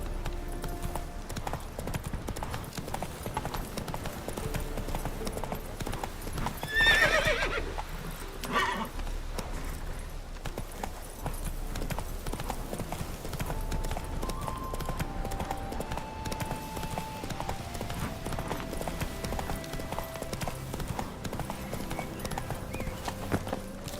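In The Witcher 3, the horse Roach trots with a steady rhythmic clip-clop of hooves, breaks into a loud whinny partway through, and keeps trotting. Game ambience sits underneath and a voice is briefly heard.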